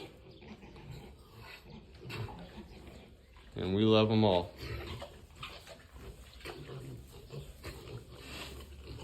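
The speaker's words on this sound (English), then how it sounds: "There's 6 pigs, 6 little ones." A sow pig with her six piglets wanting to nurse gives one loud, close squeal lasting about a second, while a person talks over soft farmyard noise before and after.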